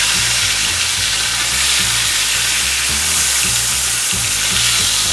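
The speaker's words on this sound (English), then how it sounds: "these should sear pretty quickly" Picanha steaks sear in a skillet over very high heat, giving a loud, continuous close sizzle and hiss of rendering fat, with faint low clatter underneath and no talking.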